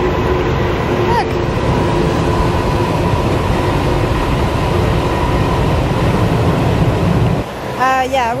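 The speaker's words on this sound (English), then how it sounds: "Oh, and the train is here!" Train passing by a bridge over a river in the Pacific Northwest, a loud continuous rumbling roar filling the scene with steady rolling noise before squealing tones appear as it fades near the end, with a voice briefly heard.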